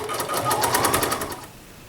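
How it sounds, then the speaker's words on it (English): Embroidery sewing machine running a fill stitch, a fast, even mechanical chatter of needle strokes, close and steady for about a second and a half before slowing off. "Start the machine, and it's going to stitch this fill stitch, and then it'll stitch a little satin stitch around the outside."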